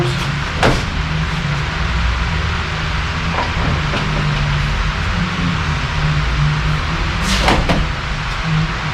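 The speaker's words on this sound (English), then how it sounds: "Doors open and close." Doors of a Ford Excursion being converted to an F250 body thump shut a few times, sharp and close, spaced apart over a steady low background hum.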